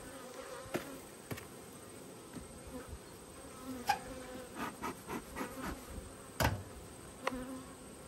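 Honeybees buzz around an opened hive during a strong nectar flow, a soft steady drone with individual bees whizzing close past at intervals, along with a few light knocks.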